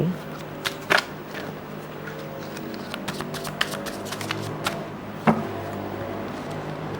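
Tarot cards are shuffled up close in soft riffling bursts with a few sharp taps and snaps, and someone talks over the shuffling.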